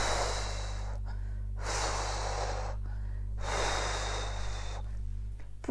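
Two long, deep breathy exhalations during a sophrology breathing exercise, each lasting about a second and separated by short quiet pauses, close and clear over a low steady hum.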